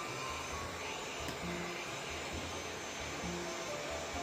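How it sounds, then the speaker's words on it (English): A heat gun blows steadily while shrinking the rear door glass of a 2026 Toyota Camry, giving a constant, even whooshing hum that is fairly faint, with no talking. "always remember to constantly keep your heat gun moving back and forth"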